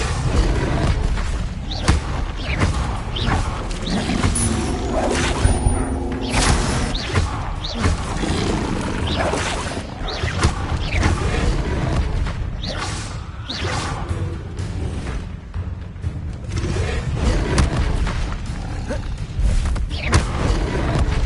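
Incendio fire spell cast repeatedly in Hogwarts Legacy, fiery whooshes and thuds bursting over a busy, loud combat soundscape.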